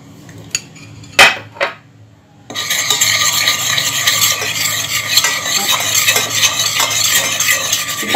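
A spoon clinks against a bowl a few times, then water is stirred steadily into powdered baby cereal, a continuous close, bright swishing and scraping for several seconds.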